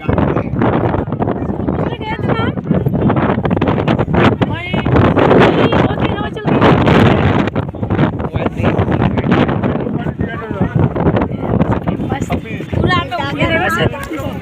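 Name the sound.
cool wind blowing by the river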